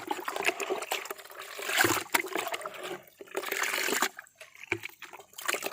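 Water trickles and sloshes as it mixes with humic fertilizer for durian trees, a steady liquid stirring and pouring that pauses briefly and then carries on.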